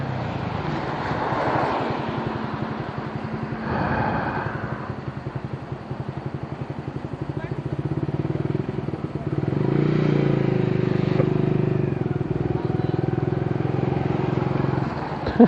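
A motorcycle rides through traffic at night, its engine droning steadily up close with rises in revs, wind noise and the passing hum of nearby cars.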